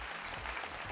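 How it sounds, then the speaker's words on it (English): A studio audience applauding a school quiz team on a televised competition, a brief, dense burst of clapping. "But let's give them a huge round of applause anyway."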